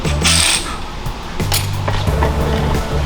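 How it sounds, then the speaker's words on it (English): A torque wrench tightens a Loctite-treated bolt to spec on a 2.3L EcoBoost long block in a workshop, giving a few sharp metallic clicks and clinks over a busy mechanical background. "Now we'll get our torque wrench and we'll torque that to spec."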